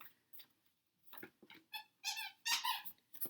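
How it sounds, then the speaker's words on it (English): Short squeaks from a dog's squeaky toy come in several bursts, close and fairly loud, with quiet gaps between them. "You might hear my dog in the background."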